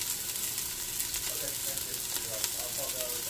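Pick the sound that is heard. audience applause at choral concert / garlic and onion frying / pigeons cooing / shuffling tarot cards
garlic and onion frying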